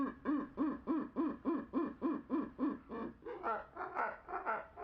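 Kookaburra laughter slowed down, heard alone as a series of about eleven deep, looping hoots in a steady rhythm that rise into a more chaotic, higher chattering toward the end.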